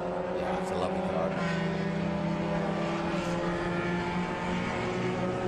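Vintage race cars, among them an Alfa Romeo and an MGA, run at Watkins Glen in an SVRA Group 1 feature race, their engines droning steadily at a distance beneath continuous commentary.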